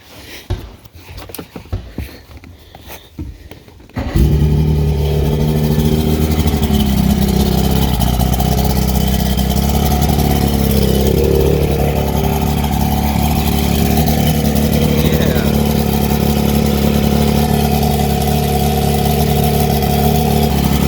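Rebuilt Chrysler Courier boat engine cranks through a few seconds of rough clattering, then catches and runs at a loud, steady idle with a deep throbbing drone that holds to the end.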